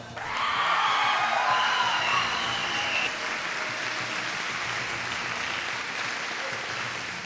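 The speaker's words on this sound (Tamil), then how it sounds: "அதனால நல்லா கைத்தட்டுங்க." An audience bursts into loud applause and cheering, then holds a steady, slightly fading round of clapping for several seconds.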